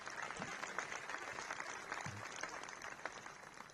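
Faint, distant applause from a crowd at a high school capping ceremony, a steady patter of many hands clapping at low volume.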